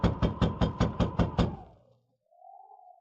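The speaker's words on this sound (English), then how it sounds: "I'll knock on the door." Eight sharp, evenly spaced knocks land on a wooden cabin door, close and loud, then stop, followed by a faint tone.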